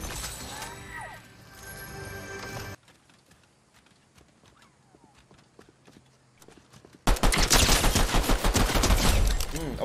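Rapid pistol gunfire in Fortnite, bursts of sharp shots loud and close, most intense in the final few seconds, with a quieter stretch of scattered shots in between.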